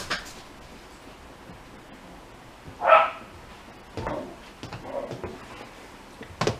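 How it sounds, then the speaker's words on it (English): A few scattered dog barks at a distance, aimed at a squirrel, short isolated yaps separated by quiet gaps. "Sorry about the barking, but they're barking at the squirrel."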